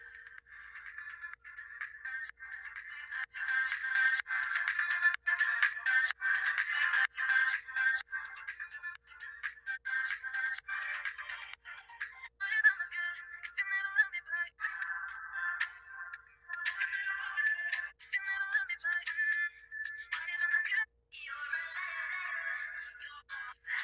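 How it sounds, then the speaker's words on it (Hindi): Non-copyright background music plays through the small built-in speaker of a T500 smartwatch, thin and tinny with no bass, running steadily for the whole stretch with a few brief dips. "स्मार्ट वॉच में स्पीकर भी है, अभी नॉन कॉपीराइट म्यूजिक में जाते हैं।"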